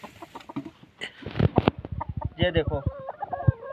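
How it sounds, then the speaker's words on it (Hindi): Hens on a village farm cluck in short repeated bursts, close and fairly loud, with irregular rhythm, while a person speaks briefly at the start. "ये है मेरी मुर्गियाँ"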